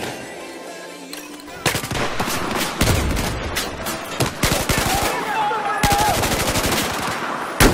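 A .50 cal machine gun in Battlefield 4 fires loud, rapid bursts, pausing briefly and then resuming, with other battle noise behind it.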